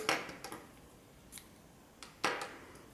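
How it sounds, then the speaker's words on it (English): Scissors snip through crochet yarn while fastening off a crocheted owl, a few quiet crisp cuts spread across a near-silent moment with no talk. "cut your yarn."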